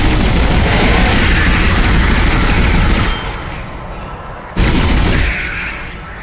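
Pulse rifle fire in Dead Space, loud sustained bursts of rapid shots that stop briefly near the middle and then resume for a shorter run, close and alone.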